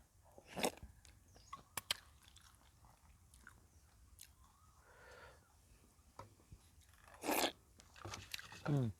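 Someone eating rice by hand instead of with a spoon: close, soft chewing and smacking with a few sharp crunchy bites, alongside quiet intermittent talking.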